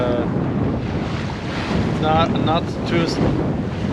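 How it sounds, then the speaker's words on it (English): Wind roars steadily across a sailboat under full sail on the Baltic Sea, a loud, continuous rush of air and water around the boat, broken briefly by a few high tonal squeaks. "We have wind, all the sails are open because it's just enough wind."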